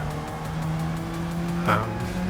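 Race car braking into a turn on a track, engine note dropping with a brief tire squeal as it settles into the corner, steady and close throughout.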